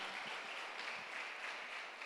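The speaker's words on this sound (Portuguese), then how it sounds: "Quantos podem aplaudir o Senhor por isso?" A church congregation applauds in a continuous, dense wash of clapping that holds at an even level throughout, with no voices rising above it.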